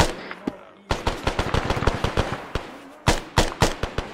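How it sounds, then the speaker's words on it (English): Loud, close automatic gunfire crackles through friendly fire in an Arma video game battle, fast bursts of sharp shots broken by a couple of brief pauses. "There's a lot of friendly fire going on right now."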